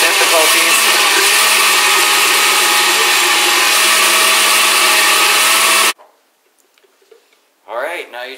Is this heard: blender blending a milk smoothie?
yes